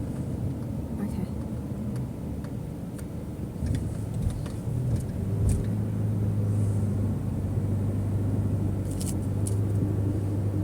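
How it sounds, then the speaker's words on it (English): Steady low road rumble and engine drone inside an Uber car heading to Tullamarine airport, continuous throughout with a few faint clicks and rattles. "Yeah, I just got into the Uber to the flight."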